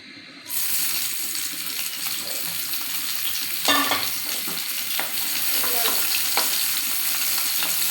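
Chopped onions for duck kala bhuna start frying after a quiet moment, a near, steady sizzle with occasional stirring scrapes and clatter, loudest when the onions first hit the pan.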